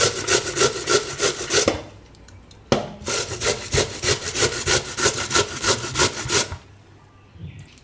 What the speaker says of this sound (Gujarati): તો ગાજર આપણે છીણી લીધું છે, એમાં જ આપણે આ બટેટું છીણી લેવું ભેગું.